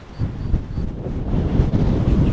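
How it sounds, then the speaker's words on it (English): Strong night wind gusts through a cemetery, roaring and buffeting the microphone in a continuous loud rush with uneven surges and no voices. "this wind is crazy"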